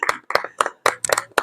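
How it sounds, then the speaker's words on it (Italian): Hand claps at the Loreo bread festival (Sagra del Pane) in the Po Delta, Italy: a short, close burst of about six sharp, separate claps in an uneven rhythm, with no voices. "io farei un grande applauso a questa favolosa manifestazione"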